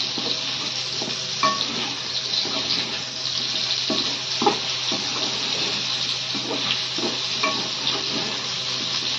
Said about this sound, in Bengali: এটা তো কত সুন্দর ভাজা হচ্ছে এটা।